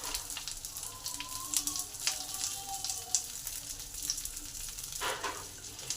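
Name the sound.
pointed gourds (potol) frying in a pan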